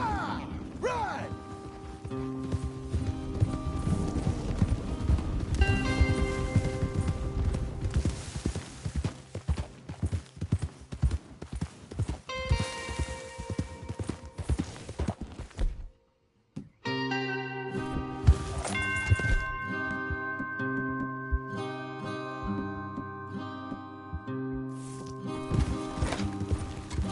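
Rhythmic video game horse hoofbeats clip-clop steadily over game music, with a brief silent gap midway before the music and hooves resume.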